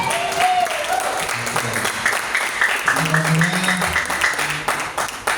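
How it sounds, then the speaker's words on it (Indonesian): Audience applause for the two MCs at an Islamic finance gathering, a steady broadband clatter of clapping that carries on throughout, with background voices and tonal sounds mixed in beneath it. "ada Bang Alam dan Kak Mutiara, tepuk tangan"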